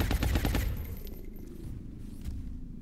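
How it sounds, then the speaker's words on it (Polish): A rapid burst of reaction-fire gunfire in the video game XCOM: Long War, then a lingering low rumble with a couple of faint distant shots. "Wiem, że tu będzie automatyczny strzał reakcji"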